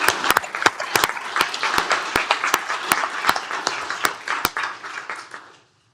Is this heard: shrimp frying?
no